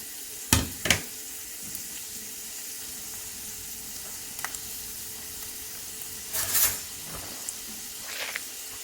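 Onion and a small chili frying in a pot on a gas stove for Mexican beans and rice, a steady soft sizzle with a few sharp louder spits and crackles near the start and again later.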